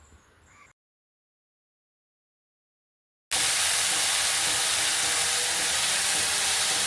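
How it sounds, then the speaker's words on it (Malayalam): Chopped ponnanganni spinach sautéing in a pan with salt, a loud steady hiss of frying that starts abruptly after a stretch of silence and carries on evenly. "ഇതൊന്ന് വഴറ്റിയതിന് ശേഷം ആവശ്യത്തിന് ഉപ്പ് ചേർത്ത് കൊടുത്തിട്ട് ഒന്നും കൂടെ നല്ലതുപോലെ ഒന്ന് വഴറ്റിയെടുക്കാം"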